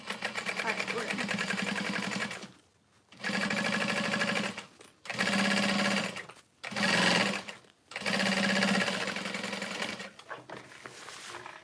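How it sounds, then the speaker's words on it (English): A sewing machine winding a bobbin whirs loudly in several sustained runs of a few seconds each, separated by brief stops, with a voice talking over it. "I find bobbins to be somewhat relaxing to wind."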